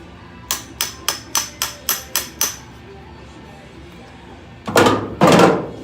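Eight quick, evenly spaced hammer-and-dolly blows ring on metal while flanging a bent panel, then after a pause two heavier, louder strikes land.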